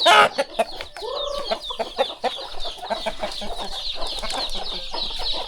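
Chickens and other fowl cluck and squawk close by in a rural southern Lao farmyard among ducks, with busy overlapping calls and short bursts throughout, no talking.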